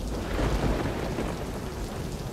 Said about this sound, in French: La pluie à Mumbai n'est-elle pas simplement incroyable?